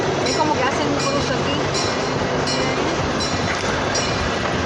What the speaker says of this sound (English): I'm going to call this a CSX train.